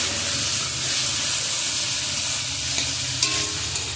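Ginger, garlic and green chili paste fries in a pan, a steady broad sizzle holding at even loudness for the whole stretch with a few faint stirring clicks near the end and no voices.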